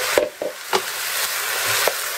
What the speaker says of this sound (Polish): Teraz wrzucam już te pieczarki.